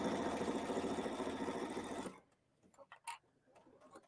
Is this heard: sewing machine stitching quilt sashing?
yes